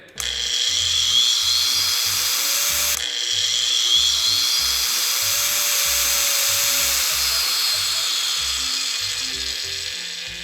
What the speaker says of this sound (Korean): 이 스틸포스 제품은 슬로우 스타트 기능이 있어서 이렇게 6단으로 해놓고도 스타트를 했을 때